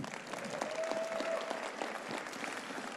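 Audience at the Olympia bodybuilding event applauding the IFBB vice president and head judge, a dense, sustained wash of clapping from a large crowd.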